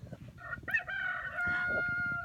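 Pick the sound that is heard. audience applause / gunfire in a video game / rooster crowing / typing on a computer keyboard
rooster crowing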